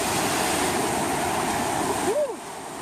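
Ocean waves at Horseshoe Bay beach in Bermuda, a steady loud wash of surf with a faint rising and falling whistle-like tone near the end.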